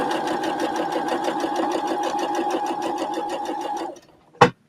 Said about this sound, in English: Put the guide in the seam again, and then top stitch.